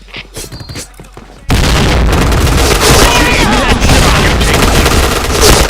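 In a tactical shooter game, a thrown grenade goes off with a sudden loud blast followed by sustained heavy gunfire and roaring noise, after a brief stretch of quieter game sounds and a voice speaking.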